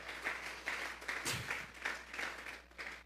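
A church congregation claps together in a steady rhythm, the even bursts of applause repeating several times at moderate volume.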